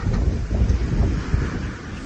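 Wind of about 19 knots buffets the microphone aboard a sailboat crossing from Fiji to Vanuatu inside the barrier reef, a loud, steady gusting roar mixed with rushing water.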